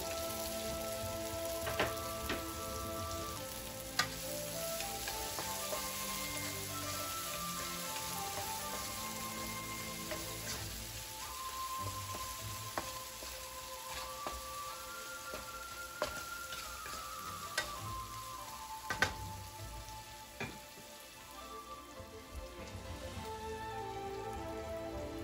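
Spring onions frying in chili oil, a soft, steady sizzle with scattered pops and crackles, fairly quiet beneath gentle background music.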